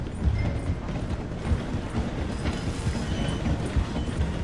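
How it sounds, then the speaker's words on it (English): A train rolls past in the Red Dead Redemption 2 video game, a dense steady rumble of wheels clattering on rails with rapid rhythmic clicks and horse hooves mixed in, close and loud. "The train is slowing down to go through the station."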